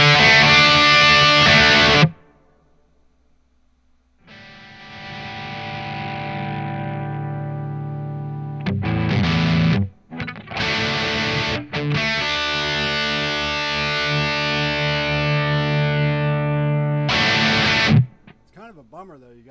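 An electric guitar plays through high gain amp models on a Spark 2 amplifier, with loud distorted chords and sustained notes broken by gaps and short silences, and a brief quieter stretch in between.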